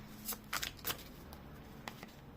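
Tarot cards being shuffled in several quick riffling bursts, close and fairly soft, with short pauses between them.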